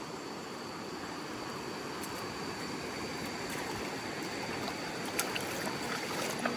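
A river flowing past a village in rural Indonesia, with a steady broadband rush of water holding at a constant level throughout, plus a few faint clicks near the end.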